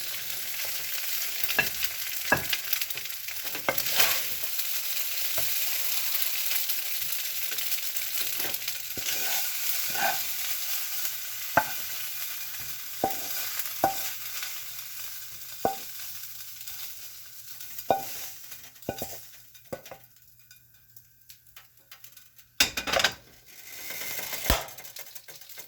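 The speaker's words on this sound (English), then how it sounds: "I am going to scoop up my rice." Metal spatula scraping and clinking against a wok as shrimp and asparagus fried rice is scooped and stir-fried, a steady sizzle under repeated sharp taps, with a brief louder clatter near the end.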